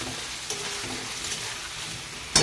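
Egg posto masala being sautéed in a pan, a soft steady sizzle with faint stirring scrapes throughout and a sharper clatter near the end.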